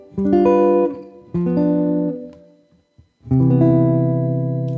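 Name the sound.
guitar chord melody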